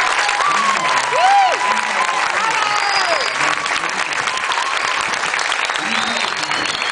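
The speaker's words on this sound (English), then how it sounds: "please join us in another round of applause for the United States Army." Loud crowd applause at a US Army infantry squad demonstration, sustained clapping and cheering with whistles and shouts mixed in, filling the whole stretch.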